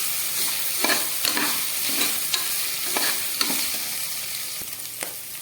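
Meal maker soya chunks being stirred in a frying pan for veg biryani, with a steady soft sizzle under repeated scraping strokes of a spatula, roughly one every half second, close and fairly loud.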